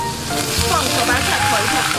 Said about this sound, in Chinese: 葱姜蒜，还有辣椒先爆香